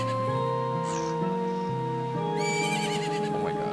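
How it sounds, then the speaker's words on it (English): A horse in the video game Zelda: Majora's Mask neighs repeatedly in loud, shrill whinnies over steady game music, up close and clear. "Oh my god, shut up, horse."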